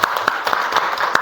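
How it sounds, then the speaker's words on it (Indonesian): Students in a seventh-grade religion class clap their hands in a short, loud, close burst of distinct, slightly uneven claps. "Tepuk tangan dulu buat kita semua."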